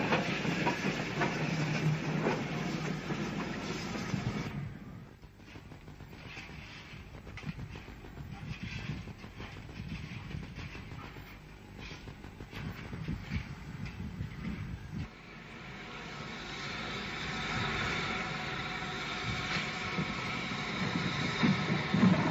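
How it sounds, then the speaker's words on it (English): A Southern Railway steam tank engine shunts coaching stock between platforms at East Grinstead, giving a sustained hiss and rumble with rhythmic clanking and wheel noise that dips, then builds again toward the end. "the tank engine shunts the stock into the other platform before departure"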